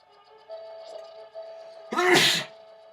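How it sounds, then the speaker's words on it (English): A single sharp, loud sneeze bursts out near the end, close to the microphone, after a stretch of steady game music humming in the background. "I didn't mean to sneeze in the middle of my commentary"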